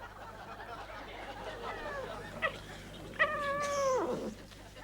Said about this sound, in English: I'll kill that bloody cat.